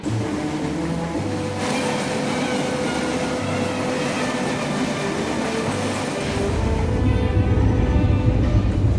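A passenger train travelling from Mumbai toward Goa in India rolls along the rails with a steady, loud rumble and faint clatter, the noise swelling heavier in the last few seconds; no one speaks.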